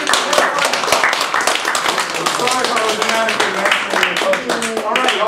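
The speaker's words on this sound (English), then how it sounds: "Let's have a round of applause for" Audience applause at a community debate forum on Occupy and democracy, dense sustained clapping with some voices mixed in, loud and steady for several seconds.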